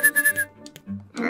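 A child whistling in the Rule of Rose video game, thin and tuneless, in four short repeated bursts followed by quieter game sounds.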